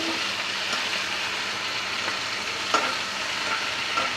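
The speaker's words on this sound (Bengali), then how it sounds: "ছাদ বাগানে শাক ভাজা হচ্ছে" Malabar spinach (pui shak) fries in a pan at a rooftop garden, a continuous close sizzle with occasional spatula stirs and scrapes and no voices.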